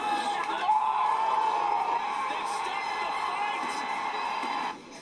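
Spectators at a boxing match cheer and whoop in a loud continuous roar, voices rising over the din, fading slightly near the end.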